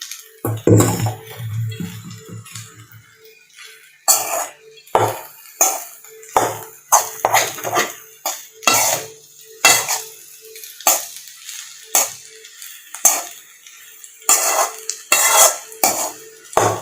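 Rice goes into a pan for chicken fried rice, then a metal spoon clatters and scrapes against it in a quick, irregular series of sharp, loud knocks, separated by short quiet gaps, with no talking.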